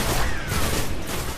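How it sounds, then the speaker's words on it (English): Auto rifle gunfire in the video game Destiny: a dense, continuous stream of loud automatic shots running the whole moment without a break, the rapid reports blurring into a steady rattle. "We're using an auto rifle."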